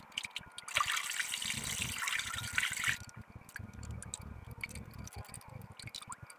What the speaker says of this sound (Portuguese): Vou derramar aqui para vocês ver como o tanto de terra.